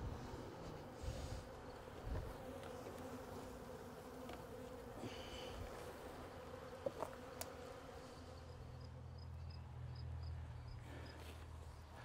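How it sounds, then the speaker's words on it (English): Honeybees from a shook swarm made from a late queenless hive hum in a soft, continuous buzz, faint and close, with a low rumble creeping in near the end. "These aren't very strong shook swarms, but it'll give a good amount of bees."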